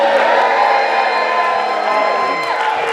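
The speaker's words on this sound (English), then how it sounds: "Can everybody cheer for me?" Loud crowd cheering and whooping from a full audience at a poetry slam festival final, a continuous dense roar of many voices holding steady for about three seconds.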